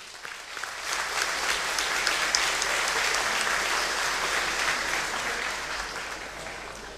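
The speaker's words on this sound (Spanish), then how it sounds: "Un aplauso para ustedes mismos." Sustained applause from an audience at an evangelical church celebration in Cabrero, heard in a hall. It swells quickly into a steady, even clapping that carries on throughout at a moderate distance.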